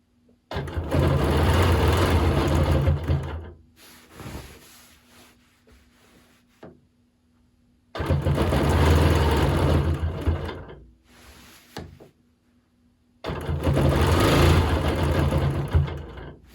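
A sewing machine doing free motion quilting on a pillow whirs in three loud, steady runs of a few seconds each, separated by quiet pauses with soft handling noises.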